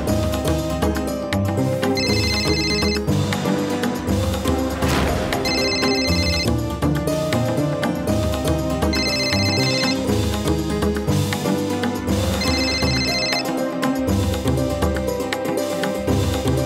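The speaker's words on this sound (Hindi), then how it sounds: "अब तुम्हारा फोन बज रहा है।" A phone ringtone plays continuously as a repeating musical melody, loud and clear, with no talking over it.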